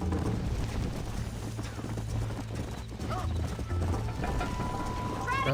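Horse hooves clip-clop in a steady rhythm while riding in the Red Dead Redemption video game, with a short whinny and light tack and mechanical sounds mixed in at moderate volume.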